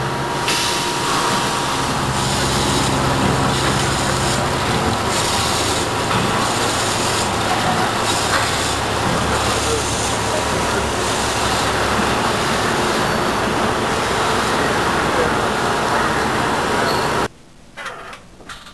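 A Kent 12 x 24 inch PLC-controlled three-axis CNC surface grinder with its coolant system and magnetic separator runs as a steady, loud mechanical hum and whir, then stops abruptly near the end.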